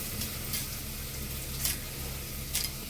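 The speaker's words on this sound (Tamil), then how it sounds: "ஒரு பட்டாணி வெங்காயம் எல்லாம் கொஞ்சம் வதங்கிச்சு நல்லா" Peas and onions sautéing in oil for vegetable pulao give a faint, steady sizzle. Three brief, brighter crackles of stirring or spatter stand out at regular intervals, and no one speaks.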